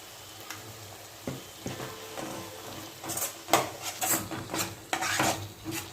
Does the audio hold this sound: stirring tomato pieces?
yes